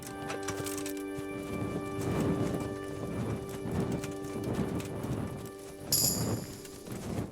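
Rhythmic hoofbeats of a trotting horse in the video game Kingdom Come: Deliverance repeat steadily over a soft, sustained musical drone, with a brief bright chime near the end.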